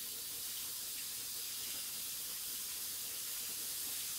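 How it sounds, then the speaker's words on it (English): Ground grass-fed beef sizzles gently in a hot nonstick pan, giving a steady, even hiss that runs without a break for the whole stretch, with no talking over it. "Just enough to get a little bit of a sizzle."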